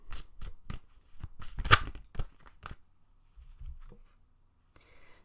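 Cards handled and shuffled for a pick-a-card love reading, a run of crisp riffling taps and snaps close to the mic over the first three seconds, then a few soft thuds and a faint rustle.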